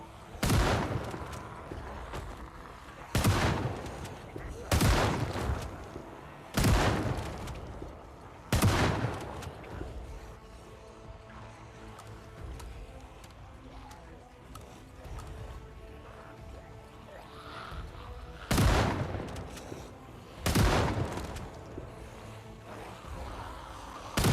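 Gunshots ring out in Project Zomboid: loud single cracks fired at irregular intervals, several in quick succession early on and a pair later, between stretches of quiet ambient noise.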